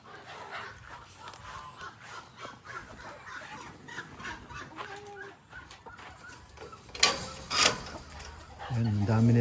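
Chickens cluck and squawk on a farm in hot, dry weather, scattered calls near and far, with a person talking throughout and a louder burst of squawking toward the end.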